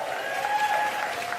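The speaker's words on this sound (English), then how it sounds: "My round of applause." Brief burst of applause and crowd noise from a comedy club audience during a stand-up set, fairly steady and moderately loud, with faint voices mixed in.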